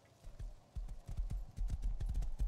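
Horse hooves clip-clopping in the video game Rust, a steady run of dull close thuds that speeds up and grows louder partway through, with no voices.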